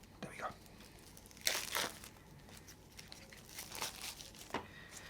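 Well-packed card deck packaging being pried open: bursts of crinkling, tearing plastic wrap and crackling card, close and fairly soft, with a quiet voice murmuring at moments.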